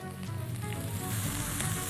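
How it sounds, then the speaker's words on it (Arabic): Ginger and garlic hiss and crackle in hot oil in a frying pan, a steady, close, loud sizzle with no voices. "هنحمرها، مش هنغيب عليها في التحمير"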